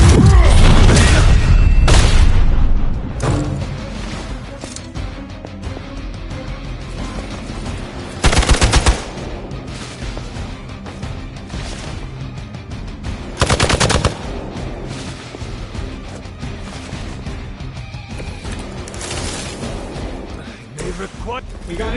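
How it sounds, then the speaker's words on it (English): Gunfire erupts in the video game Midnight Suns: a loud opening burst of machine-gun fire gives way to repeated sharp bursts and booming shots over ongoing combat noise, with voices talking at points. "We got incoming fire."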